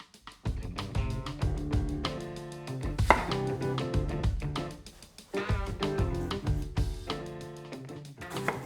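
An onion minced with a knife on a cutting board for a soffritto, with rapid close rhythmic chopping knocks that pause briefly midway, then resume.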